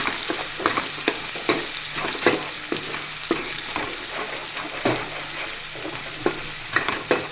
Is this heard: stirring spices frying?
yes